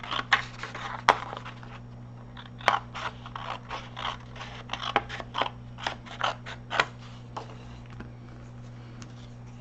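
Scissors snip repeatedly through craft material being trimmed for artist trading coins, a steady run of close, crisp cuts with short pauses, no talking.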